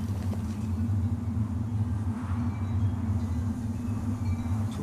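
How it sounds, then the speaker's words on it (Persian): A storm rumbles as a steady, loud, low roar that holds without break from start to finish, with no voices over it. "طوفان آغاز شده است."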